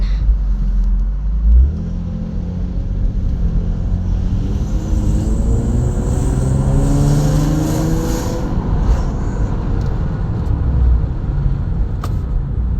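An Infiniti G35 accelerates hard on a road test, its engine rising in pitch through the gears with steady road and wind rumble from inside the car, loud and continuous.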